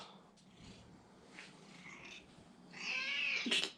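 A kitten meows indoors, with faint rustling first and then a close, rising meow near the end.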